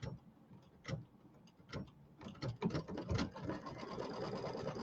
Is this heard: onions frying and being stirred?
no